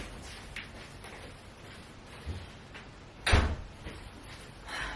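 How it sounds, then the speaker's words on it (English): An indoor door is pushed shut, ending in one sharp close or thud near the middle, amid faint room noise and small handling sounds before and after. "Just need to close the door here."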